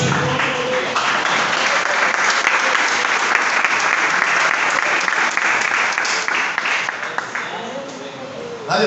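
Church congregation applauding during an Apostolic worship service, loud sustained clapping from a full crowd that holds steady throughout, with a few voices mixed in.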